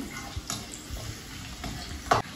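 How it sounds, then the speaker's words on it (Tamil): Garlic frying in oil with a soft steady sizzle, broken by a few stirring scrapes and clinks, one sharper clatter near the end, no voices. "இப்போ இந்த பூண்டு வந்து நல்லா ஃப்ரை ஆகிடும் அந்த ஆயிலில்"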